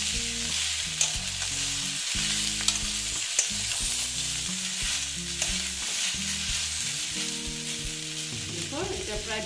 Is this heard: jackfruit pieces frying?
yes